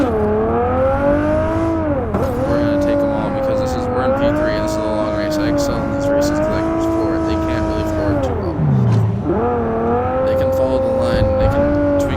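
Ferrari F40 race car engine droning steadily through a night-city motorsport race in Cyberpunk VR, the pitch rising and dipping with gear changes and a sharp drop near the end, under continuous talk.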